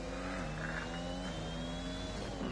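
Race car engine in a racing video game revving loudly and steadily, its harmonic whine sliding in pitch as it accelerates, with no talking over it.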